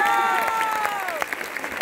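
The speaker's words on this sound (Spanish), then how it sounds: "Fuerte el aplauso para él." Short burst of audience applause and cheering at a stand-up comedy show, with voices rising over the clapping.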